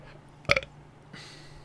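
A single loud burp from a person, short and abrupt, breaking a quiet stretch and followed by faint background noise.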